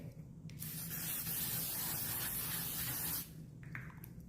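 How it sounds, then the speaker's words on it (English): A continuous close-up hiss of makeup setting spray runs for about three seconds, with quiet rustling before and after. "the last stage would be to take a setting spray"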